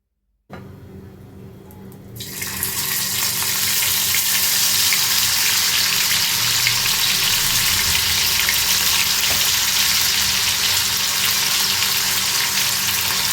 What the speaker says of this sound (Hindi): तवा अच्छी तरह से गर्म होने के बाद आप थोड़ा थोड़ा तेल डालकर आप गोश्त को तल लीजिए